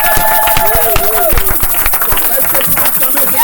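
A church congregation claps in a steady rhythm during a worship service, a dense run of close, loud hand claps mixed with voices and sung or shouted tones.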